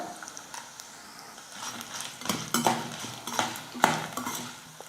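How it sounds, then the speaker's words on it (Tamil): Ginger and lumps of asafoetida fry in hot oil in a pan, a soft continuous sizzle broken by sharp metallic scrapes and clinks of a spoon stirring, close and moderately loud. "இப்போ எல்லாம் சேர்த்து நல்லா வறுத்துக்கலாம்"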